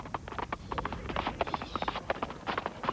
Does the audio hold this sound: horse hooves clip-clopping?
yes